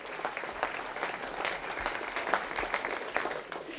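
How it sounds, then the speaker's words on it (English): A school college signing event where an audience applauds for student athletes, steady mixed clapping filling the room without a break, with no speech over it. "So one more round of applause for our 12 student athletes."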